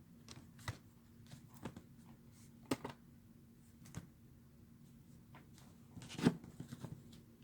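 Tarot cards are shuffled by hand in soft, papery riffles and taps, scattered irregularly over several seconds, quiet and close, with a faint steady hum beneath.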